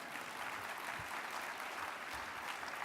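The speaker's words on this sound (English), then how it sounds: "a little round of applause for..." An audience applauds at a Hall of Honor award speech, a steady, dense wash of many hands clapping at moderate distance, continuous and without talk.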